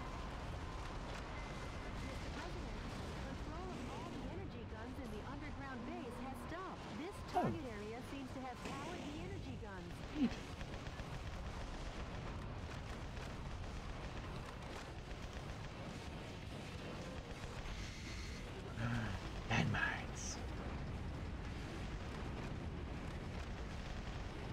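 Missiles exploding in the Metal Wolf Chaos XD game: several booming blasts burst out at scattered moments over a busy, noisy combat mix, with a voice talking throughout.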